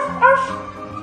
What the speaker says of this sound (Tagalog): Kahol ni Bruna sa tuwing sumasang ayon